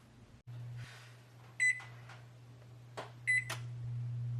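An oven is switched on. Two short bursts of electronic beeps sound near and clear over a steady low appliance hum, with a soft click or two in between.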